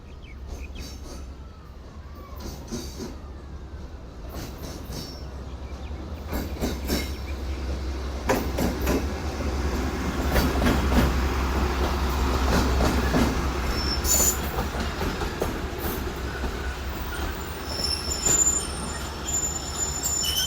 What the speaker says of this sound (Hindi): हमारी ट्रेन अभी तक नहीं आई, बस कुछ ही देर में पहुँच जाएगी हमारे पास।